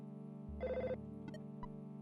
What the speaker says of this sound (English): His phone is ringing off the hook.